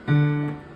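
A short, clear meow rings out once, fairly close and loud, with a steady tone that fades at the end.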